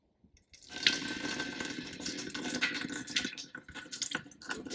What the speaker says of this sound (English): I like to pour about a can, maybe two, in a large pot